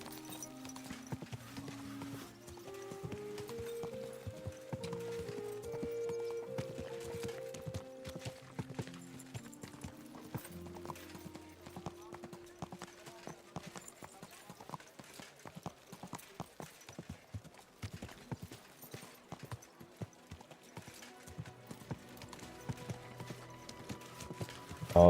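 Horse hooves clip-clop steadily in Kingdom Come: Deliverance 2, a rhythmic run of moderately close footfalls that starts under a soft musical melody and continues on its own, with occasional faint talk.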